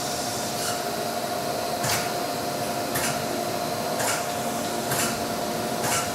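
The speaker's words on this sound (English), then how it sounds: "We're now going to start our grinding cycle." A Chevalier AD III series grinding machine with auto dresser running its grinding cycle, giving a steady broadband mechanical whir with a faint tone and soft periodic swishes about once a second.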